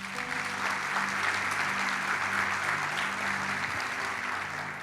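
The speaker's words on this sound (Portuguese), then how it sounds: "Dê um aplauso a ele." Church congregation applauding after a sermon, dense steady clapping from many hands that fills the room continuously, with a faint murmur underneath.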